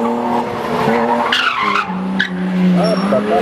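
Car tires squeal and skid through a figure-driving competition in Almaty, Kazakhstan, with sliding pitch sweeps and bursts of squeal over constant engine and crowd noise, plus some voices.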